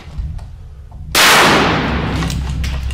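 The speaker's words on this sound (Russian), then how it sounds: "О, тоже выстрел" A frozen 12-gauge shotgun cartridge, chilled to -15 °C, fires once with a single loud, sharp blast about a second in, then a long booming decay that rings on outdoors.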